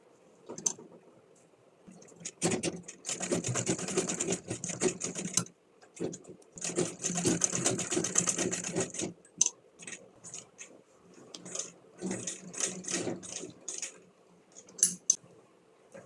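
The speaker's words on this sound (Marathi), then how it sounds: "तिथे कॉर्नरला एक अशी शिलाई घ्यायची आहे सरळ, त्यामुळे बेल्ट आपला फिक्स होईल व्यवस्थित." Sewing machine stitching a belt onto a bag made from an old denim skirt, running in several loud bursts of rapid stitching separated by short pauses and softer clicks.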